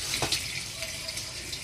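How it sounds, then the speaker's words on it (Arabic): Water from a tap runs and splashes steadily as molokhia leaves are washed in a sink, a short close gushing stream with faint clatter. "هنا اغسل الملوخيه بتاعتي"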